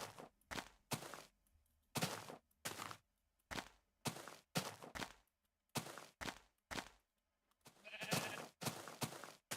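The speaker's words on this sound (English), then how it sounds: "There we go, more sheeps." Several sheep bleat in the Minecraft video game, short nasal calls coming in quick repeated bursts with brief silences between them, fairly close and clear, with soft footstep thuds mixed in.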